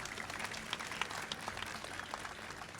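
An audience at a Fourth of July reception claps in sustained applause, dense patter of many hands at moderate distance, continuous and alone.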